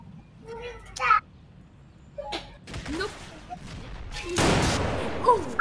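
Gunfire in the Roblox Civil War video game comes as scattered, fairly faint shots and a louder rolling burst near the end. Someone talks over the shooting.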